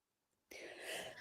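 A single sudden sneeze breaks an otherwise quiet moment, starting sharply and trailing off in a breathy, noisy burst about a second long, close and moderately loud.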